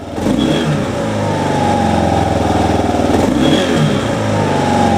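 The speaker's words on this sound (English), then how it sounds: "when you want to rev it up, you just" A motorcycle engine revs as the throttle is twisted, a loud, close, steady drone that swells slightly near the end, with no speech.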